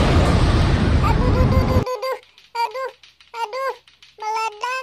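An LPG gas canister explodes in a children's cartoon: a loud, roaring blast lasts nearly two seconds and cuts off abruptly. Childlike cartoon voices then speak in short bursts over near silence.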